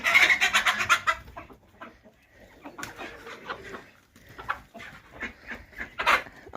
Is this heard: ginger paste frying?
no